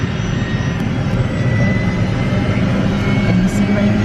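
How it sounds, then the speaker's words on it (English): A tour helicopter prepares to lift off over the Grand Canyon, its engine and rotors producing a loud, steady roar and hum heard from inside the cabin, with people talking over it. "we are in the helicopter. So we have assigned seating based on weight, and right now we're ready to take off."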